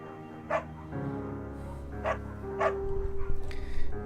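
Short, close dog barks in the Firewatch video game, four separate yips spaced over a few seconds above a low tonal music bed.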